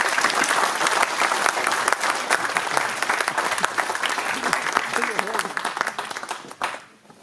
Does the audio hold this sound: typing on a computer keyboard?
no